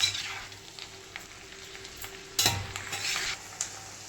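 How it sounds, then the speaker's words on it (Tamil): Garlic sautés in hot oil for a pickle, a steady soft sizzle with occasional clinks and scrapes of a stirring spoon against the pan, heard alone without voices. "இது வதங்கிட்டு இருக்கட்டும் இனி கொஞ்சம் வதங்கணும்"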